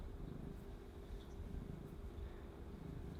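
A cat purring close up indoors, a steady low continuous rumble throughout with no talking.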